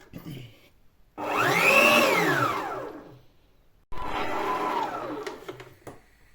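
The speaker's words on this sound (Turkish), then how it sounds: "Pişini takmadan çalıştırıyorum arkadaşlar." Kitchen mixer running with no attachment fitted, a loud motor whine that rises in pitch, holds for a couple of seconds and winds down, then a second shorter run, close and alone.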